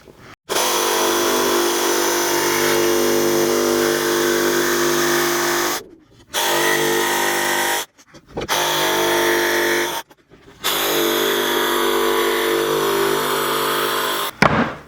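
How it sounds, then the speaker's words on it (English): A power tool cuts out a mortise in a wooden seat plank for a Viking camping chair, whining loud and close in four sustained bursts separated by short silent pauses. "we're going to go ahead and cut out this mortise"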